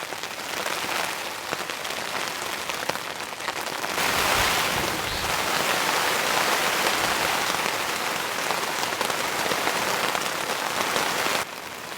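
Heavy rain drumming steadily on a camping tent during an incoming storm, a dense hiss that swells louder midway and stays strong until dropping off near the end.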